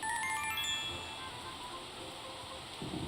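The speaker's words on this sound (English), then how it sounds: "My phone rings, the sound slicing through the patter of rain." A phone ringtone in the game Corpse Factory plays a bright, chiming melody over a steady wash of rain, then fades under the continuous patter.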